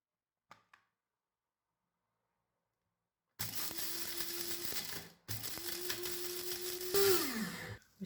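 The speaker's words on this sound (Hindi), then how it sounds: "इन्हें अच्छे तरीके से पीस लेंगे" After a near-silent pause, an electric grinder whirs loudly on coriander, cumin, black cardamom, black peppercorns and a cinnamon stick, running in two bursts with a short break between, then winding down as it switches off.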